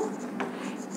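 Brief scratch of writing on a board, a single short stroke heard up close over faint room noise.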